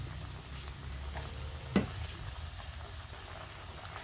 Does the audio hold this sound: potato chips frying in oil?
yes